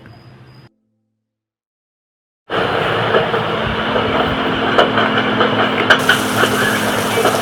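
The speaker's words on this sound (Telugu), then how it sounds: "వాళ్ళు ఎప్పుడైతే ట్రైన్లో ఉన్నారో" A train runs along the tracks in heavy rain. After a brief sound and a couple of seconds of silence, a loud, steady rumble of wheels comes in and continues to the end.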